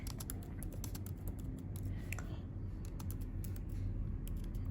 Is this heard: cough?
no